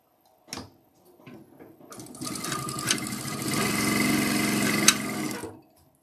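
A sewing machine chain piecing fabric with back stitching, starting with a few isolated clicks and needle taps, then running in a steady, fast, close whir that builds and holds for several seconds before stopping abruptly.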